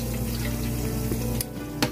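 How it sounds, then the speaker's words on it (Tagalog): Potatoes sautéing in butter or margarine in a pan, a steady close sizzle and crackle with a low hum underneath and a couple of sharp clinks near the end. "Tapos ginisa ko po pala siya sa butter or margarine po."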